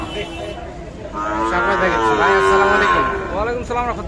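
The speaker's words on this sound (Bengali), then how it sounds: "এই পাশে আমরা আরো কয়েকটা শাহিওয়াল জাতের বাছুর দেখছি" Sahiwal breed calves at a busy cattle market give a long, loud, drawn-out moo followed by a shorter second call, close by, over a steady crowd murmur.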